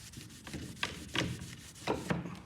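A scraper pushing two coats of Peel Tec–softened stain off wood, making quiet, close scraping rasps repeated in short strokes about every half second.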